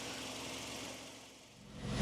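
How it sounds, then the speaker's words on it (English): The repaired exhaust of a Nissan Primera P12, patched with putty, idles quietly in a low, steady rumble with faint mechanical pulsing. It is recorded close by, with no voices. "the exhaust certainly sounds better than it did before the repair"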